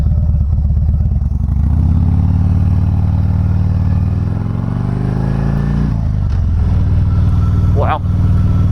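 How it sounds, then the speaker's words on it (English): A 2009 Harley-Davidson Dyna Fat Bob rumbles steadily through a ride around Raleigh, its low V-twin drone rising and falling with throttle changes, with faint speech over it and a brief sharp chirp near the end. "that is your little ride around Raleigh on this 2009 Harley-Davidson Dyna Fat Bob"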